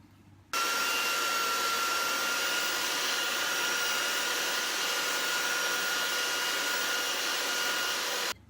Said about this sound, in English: we're going to take our little hand sander and we're going to sand this whole thing smooth on this side and on this side